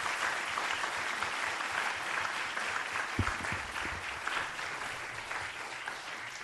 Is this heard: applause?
yes